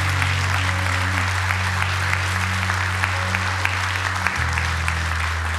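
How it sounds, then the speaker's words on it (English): Church congregation clapping in praise during a service, continuous dense applause throughout over a steady low electronic hum, loud and sustained. "give the Lord a hand clap of praise today"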